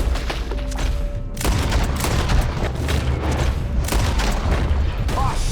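Pistol fire in a Red Dead Redemption 2 shootout in Annesburg, with rapid repeated booming shots over a loud, continuous backdrop of gunfire and game action.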